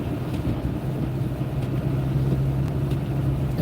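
Car tires roll over a snowy road during a snowstorm, a continuous low rumbling road noise with an engine hum beneath it, steady and close throughout, with no voices.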